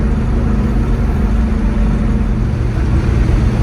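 A Pontiac GTO drives steadily with its engine running at a constant low drone, accompanied by road and cabin rumble. The sound is close and loud throughout, and nobody talks.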